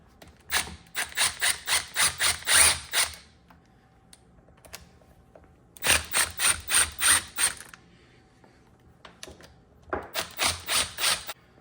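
A ratchet clicks in three separate bursts of rapid ratcheting as 6mm Allen valve cover bolts on a DRZ400 engine are loosened, with quiet pauses between them and no talking.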